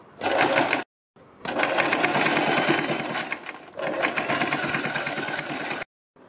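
An electric sewing machine stitches a kurti neckline in three bursts of rapid, even needle chatter, each cut off by a short silent pause, heard close and clear.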